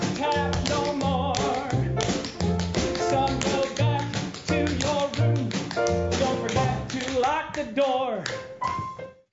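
Rhythmic tap-dance footwork, a steady run of quick sharp taps and heel thuds, played loud over a bouncy vaudeville-style music backing without pause.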